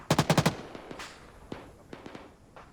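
Gunfire during platoon shooting training, opening with a fast burst of five loud close shots, then scattered single reports and fainter distant pops spread over the remaining seconds.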